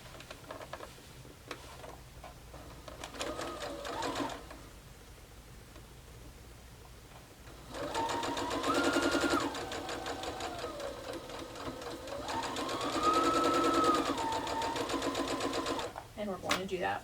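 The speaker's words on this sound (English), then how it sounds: "So just right sides together. And stitch with a 1/4 inch seam allowance." Sewing machine stitching quilt triangles with a quarter-inch seam for a nine patch block, whirring in short bursts then longer steady runs, with someone talking over it.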